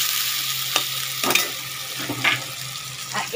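Onions and tomatoes sizzle in a pan after salt goes in, a steady close hiss broken by a few sharp stirring clicks and scrapes.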